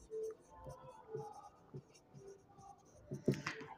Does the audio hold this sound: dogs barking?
no